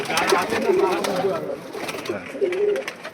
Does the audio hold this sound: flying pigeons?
yes